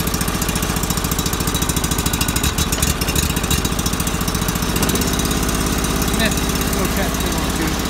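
A small engine chugs roughly and unevenly, close and loud, with a lopsided knocking rhythm that sounds like it is firing on one cylinder.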